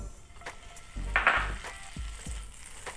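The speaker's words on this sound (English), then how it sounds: "I'm gonna use butter because I love the crispy edges it gives it along with the flavor." Butter cubes melting and sizzling in a hot skillet before pumpkin pancake batter goes in, a soft close crackle with a few louder pops and spatters, no voices.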